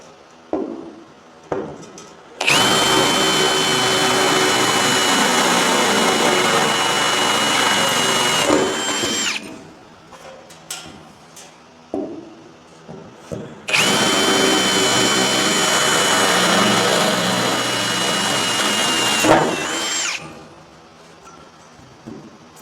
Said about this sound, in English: So that's drilling through pretty easy.